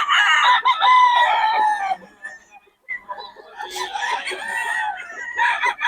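Stag roosters crow and cluck at close range, with several overlapping calls. Someone talks in Filipino at the same time.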